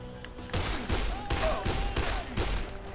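Gunfire in the video game Dead Island comes as a rapid volley of loud, close shots in a quick irregular rhythm over a low rumble.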